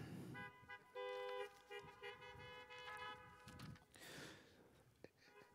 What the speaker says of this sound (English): It's all right to honk your horns.